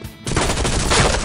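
A Scar H rifle in the Point Blank shooter game fires a rapid, loud, continuous burst of close gunshots after a brief quiet start.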